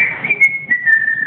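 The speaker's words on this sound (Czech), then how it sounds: "je zvláštně to pískání" Strange, steady high whistling tone holds level and continuous for over a second, with low murmuring background beneath it.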